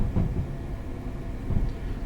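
A Class 377 electric train running in Train Sim 2021 on the London Victoria to Selhurst route, a low steady rumble with soft rhythmic thumps, as if wheels crossing rail joints.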